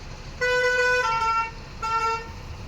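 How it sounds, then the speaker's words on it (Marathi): Car horns honk amid a slow-moving traffic jam with trucks, where most lanes are closed and only three are open: a loud sustained tonal blast lasting about a second, followed by a shorter second honk, over a low road rumble. "त्याच्यामुळं सगळं ट्रॅफिक झालं आहे"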